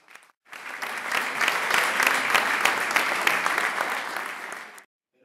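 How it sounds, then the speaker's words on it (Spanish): At a literary award ceremony, a hall audience breaks into applause that swells quickly, holds as a thick, steady clatter of many hands for about four seconds, then stops abruptly into silence. "Les pido un fuerte aplauso para él"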